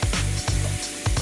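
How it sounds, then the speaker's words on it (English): An orange being sliced with a knife in a kitchen, three firm low cutting strokes in a steady rhythm, close and fairly loud with no talk. "Slice that orange up."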